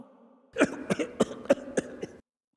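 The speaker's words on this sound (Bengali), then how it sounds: "আর ধূমপান করতে গিয়ে ওরকম কাশি হবে?" A person coughing in a burst of about six rough, evenly spaced hacks, close and clear, like a smoker's cough.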